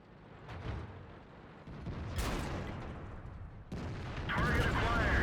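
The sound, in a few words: tank cannon shots in World of Tanks video game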